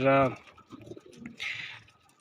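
Soft cooing from pigeons in a tree, a few low throaty calls, heard alongside a voice speaking nearby.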